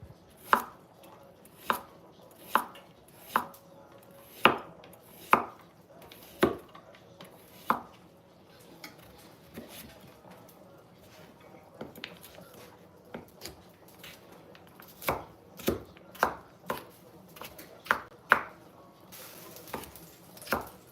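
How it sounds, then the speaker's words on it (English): A knife chops carrots on a cutting board for a shepherd's pie, with irregular sharp thuds that cluster in quick bursts and then pause, set over a faint kitchen hum. "But if you want to julienne your carrots,"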